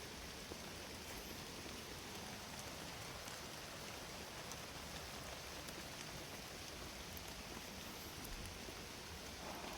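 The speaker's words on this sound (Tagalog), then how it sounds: "Silo muna tayo saglit tol kasi ang lakas ng ulan." Heavy rain pours down in a dense, unbroken hiss of drops, loud and steady from start to finish with no voices.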